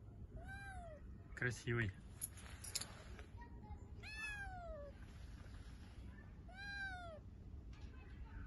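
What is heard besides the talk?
cat meowing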